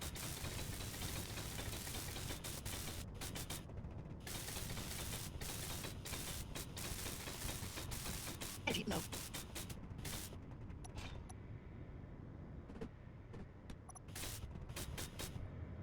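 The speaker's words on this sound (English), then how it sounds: "excuse me for a moment while I weld all these" Welding in the video game Space Engineers: a steady mechanical grinding hum with repeated ratcheting clicks and sharp bursts, running continuously at close range with no talk.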